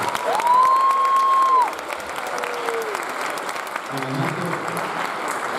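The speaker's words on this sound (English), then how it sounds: "let's have one more round of applause for our French horn choir" Audience applause at a high school wind ensemble's winter concert, honoring a French horn choir. Steady, dense clapping fills the room, strongest at first and then continuing at a slightly lower level.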